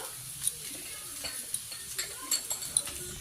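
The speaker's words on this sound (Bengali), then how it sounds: "এখন এর মধ্যে আমি সামান্য পরিমাণে জল দিয়ে আলুর সঙ্গে মশলাটাকে ভালো করে কষিয়ে নেব" Potatoes with salt, turmeric, cumin and Kashmiri chilli powder fry softly in a pan while a utensil stirs, with faint sizzling and a few light scrapes and taps against the metal.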